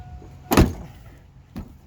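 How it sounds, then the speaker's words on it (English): A car door shut during a backyard door and fender repair: one loud, solid slam followed a second later by a softer knock, close by, with no talking. "the door still shuts"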